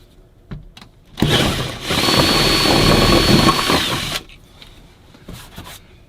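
A power drill with a 6.5mm bit whirs steadily for about three seconds as it bores a hole for a rivnut in a van sliding door, with a few light knocks and taps before and after.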